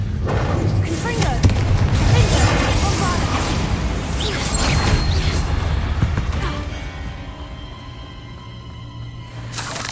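A loud blast from the Confringo spell in Hogwarts Legacy, with booming, crackling impacts that roll on for several seconds before fading, under a steady bed of game sound.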